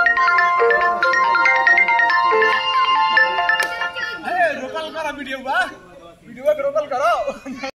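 A melodic phone ringtone plays for a few seconds, then people talk and chuckle as it fades.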